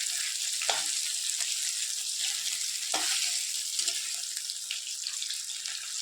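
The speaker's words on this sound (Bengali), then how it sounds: "এই যে ট্যাংরা মাছ অল্প ছিল, ওটাই একটু ভেজে নিচ্ছি।" A few small tangra fish fry in a pan on a home stove, giving a constant close hiss of hot oil with occasional sharper pops and crackles.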